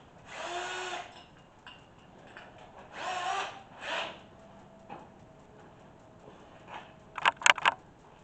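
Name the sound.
power drill reaming out a hole on a job site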